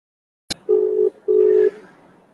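An outgoing phone call rings without being answered: a sharp click, then two long, steady ringback tones separated by a short gap, loud and close, with no voices.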